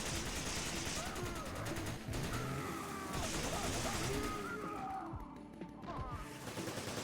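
AK and SIG 556 machine guns in Resident Evil 5 fire rapid bursts of gunfire that rattle on and off with crashes and impacts, loud and dense, while someone talks over the shooting.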